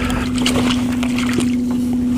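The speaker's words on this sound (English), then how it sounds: "You can get the trolling motor if you want to." Trolling motor on a fishing boat, a steady electric hum holding one pitch throughout, with light wind and water noise around it and no talk.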